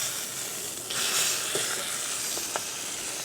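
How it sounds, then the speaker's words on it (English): Dry-aged tomahawk steak searing inside a wood-fired Gozney Dome XL oven, a steady close sizzle with faint hiss and a couple of brief sharp pops. "I just want to sear it off."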